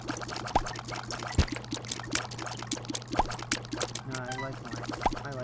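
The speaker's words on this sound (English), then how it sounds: "I like the flush." A cartoonish toilet flush from the video game The Binding of Isaac: Afterbirth, with gurgling, swirling water and bubbly tones mixed among busy game effects, sharp hits and background music at moderate loudness.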